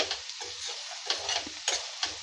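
Bitter gourd curry with tomato pieces being stirred in a pan, a soft scraping stir repeating in slow strokes over a light steady sizzle, close and moderately quiet.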